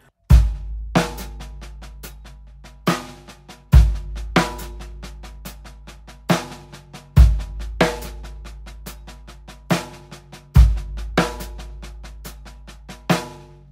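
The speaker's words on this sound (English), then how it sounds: "this snare drum pattern that has a 1E and accent on the of 1 and on 4" A snare drum groove played along to a backing track with a deep bass pulse. The pattern uses a 1E figure with accents on the and of 1 and on 4, giving crisp, close, loud hits in a repeating bar-long cycle.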